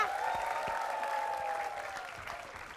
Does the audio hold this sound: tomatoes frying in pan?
no